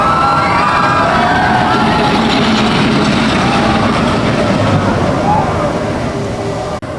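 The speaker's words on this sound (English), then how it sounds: "That's probably me on the train going up the hill right now." Expedition Everest roller coaster train climbing the lift hill at Disney's Animal Kingdom, a loud continuous rattling roar mixed with crowd noise, staying steady throughout.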